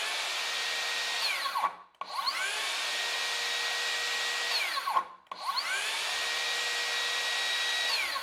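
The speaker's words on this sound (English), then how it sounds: "Definitely a little quieter, a little smoother in the operation." Makita 36V rear-handle circular saw whining steadily at full speed, close and loud, briefly dropping out twice as the trigger is released and the motor spins back up.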